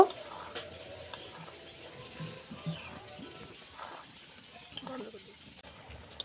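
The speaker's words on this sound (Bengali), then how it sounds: "দিয়ে দেবো 1 চামচ লবণ, ভালো করে মিশিয়ে নেব।" Salt being stirred into an Indian gooseberry (amla) pickle: soft, faint scraping and scattered light spoon clinks against the container at close range, in a quiet room.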